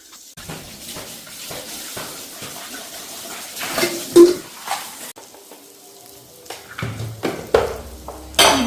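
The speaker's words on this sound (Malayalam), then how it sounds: "അപ്പോൾ ഇതിന് വേഗം ഞാൻ പാത്രം കഴുകട്ടെ" Dishes being washed by hand in a home kitchen, with clinks of pots and plates and running water, in irregular bursts over a steady background hiss.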